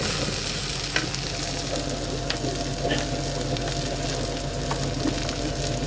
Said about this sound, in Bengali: এখন আমি পেঁয়াজ রসুন অ্যাড করছি